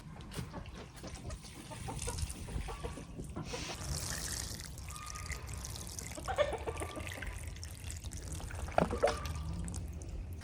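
Water trickles from a watering can into soil in a freshly planted terracotta pot of tulips on an outdoor back deck, a steady pour with faint outdoor ambience and distant bird calls behind it.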